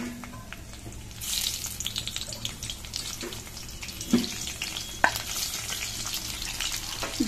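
Chopped garlic and bay leaves hit hot oil in a wok for an egg curry, a soft sizzle rising into steady frying with occasional clinks of a spoon or spatula against the pan.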